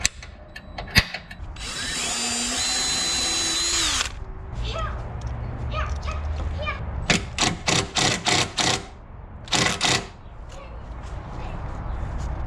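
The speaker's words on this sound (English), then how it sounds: "now I just gotta drill the relay into this so it's nice and secure" A power drill drives a screw to mount a relay during a 2020 Chevrolet Silverado fog light install, a loud whirring burst followed by several short, close bursts of the motor.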